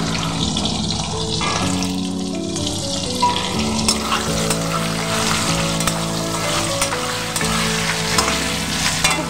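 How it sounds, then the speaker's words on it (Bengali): Potato pieces frying in hot oil seasoned with salt and turmeric, for a Bengali bata fish kalia, hiss and crackle loudly and continuously up close, with occasional clinks and stirring. "ভালো করে লাল লাল করে আমি ভেজে নেব।"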